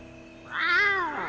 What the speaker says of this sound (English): Why do you need to do a stupid cat cry?